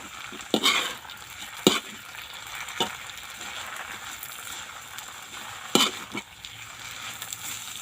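Noodles for rad na sizzle in a hot wok while a utensil scrapes and stirs, with several sharp metallic clanks spaced out over the steady frying hiss.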